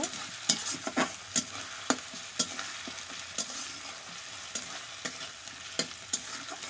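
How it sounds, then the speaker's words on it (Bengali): Meat with ginger paste is stirred in a pot over a wood fire. A spoon scrapes and clacks in quick, regular strokes over a soft, steady sizzle, heard up close with no talking. "এবার আমি দিব আদা বাটা আদা বাটা দিয়েও সেই সেম নাড়িয়ে নিব"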